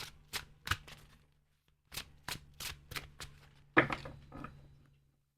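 Tarot cards drawn one by one from the top of a deck, a series of soft crisp slaps and shuffles in small clusters with brief pauses, close and quiet.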